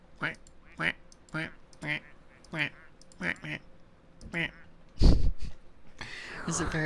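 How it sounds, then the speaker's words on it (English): Quacks of a plastic duck sound out in the Placid Plastic Duck Simulator video game, a string of short, evenly spaced quacks followed by a louder splash and a burst of watery noise. "I can also quack at you."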